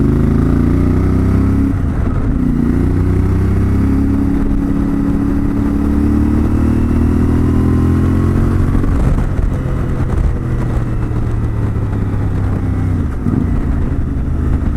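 A CFMOTO 450MT motorcycle riding along with a steady, loud engine drone heard close up, broken by brief dips around each gear change as the pitch drops and climbs again. No talking.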